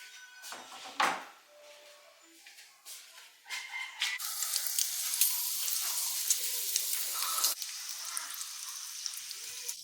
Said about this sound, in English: put the bacon into the hot pan so that the fat renders out